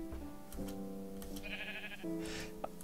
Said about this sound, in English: So many cows here and sheep.